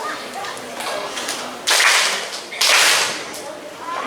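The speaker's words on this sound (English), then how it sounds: "Can you please clap 2 half notes?" Beginning band students at a school concert clap two half notes together, two loud unison group claps spaced evenly apart over a murmuring audience.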